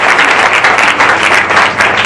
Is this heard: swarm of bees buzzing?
no